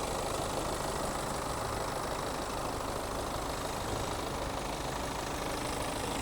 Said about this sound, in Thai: ให้ฟังเสียงเครื่องกันนะครับสำหรับเครื่องยนต์ดีเซลนะ